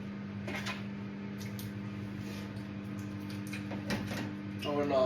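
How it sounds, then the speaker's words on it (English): A microwave oven hums steadily through a 30-second heating run, its low constant drone sitting beneath occasional clinks and light handling noises, with a faint rise near the end. "Microwave, 30 seconds."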